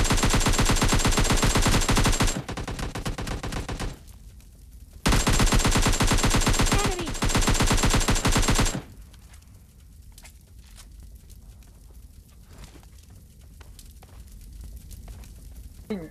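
Automatic gunfire in a battle royale video game, with loud, rapid bursts of shots that stop and start in two long volleys, then give way to quieter scattered cracks and a low background.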